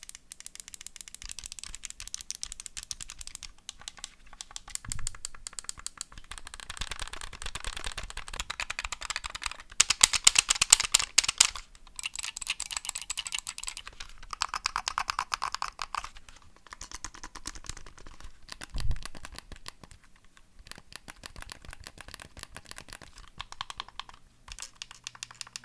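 Clicky, mechanical buttons on a Razer Raiju Tournament Edition PS4 controller pressed in rapid, irregular bursts, close and fairly quiet, with brief pauses between flurries and no talking.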